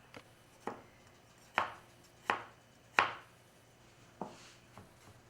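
A knife chops garlic into little pieces on a cutting board, about eight crisp, distinct thuds at an uneven pace, close and fairly quiet with no talk.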